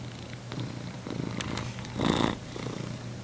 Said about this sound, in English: You're such a handsome and cute kitty.